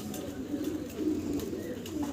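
A breeding pair of pigeons from a farm loft coo softly and steadily at close range, with a continuous low murmur and a few faint chirps over light background noise.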